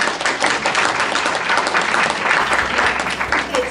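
Audience at an opening-speech event breaks into sustained, dense applause, many hands clapping loudly and evenly throughout, filling the room without pause.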